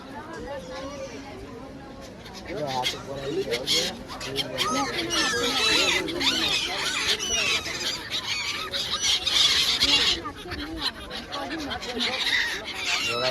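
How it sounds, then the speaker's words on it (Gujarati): A flock of birds calls noisily together in Dwarka, a busy overlapping chatter of squawks and honk-like cries that rises and stays dense, heard close under steady talk from people nearby. "કેટલો બધો હોય આ બધો પક્ષી"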